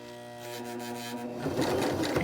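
A sewing machine stitches a fabric face mask, whirring loudly and steadily in short bursts of forward and back stitching that build in intensity toward the end, with no talking.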